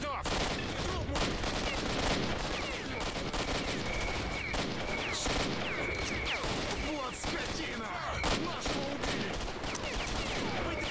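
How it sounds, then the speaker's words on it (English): Rapid gunfire in the video game S.T.A.L.K.E.R. Shadow of Chernobyl, dense overlapping bursts and single shots crackling continuously with clatter, with a voice talking underneath at times. "Stop shooting me."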